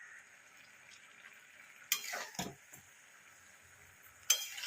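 Spinach chochori being stirred gently in a pan: a few soft scraping and clinking strokes of a utensil against the pan over a faint, steady background hiss, close and quiet.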